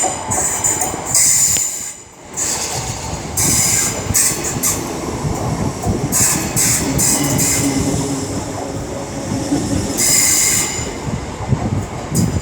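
A Class 319 electric train pulls out of London Euston on the West Coast Main Line with loud rumbling, metallic wheel squeals and clattering rail joints, heard up close throughout with no talking.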